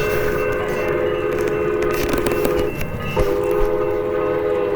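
A locomotive-hauled train passes near Barstow, its steady rumble and rolling wagon noise loud and continuous, with a brief shift in the middle as cars go by.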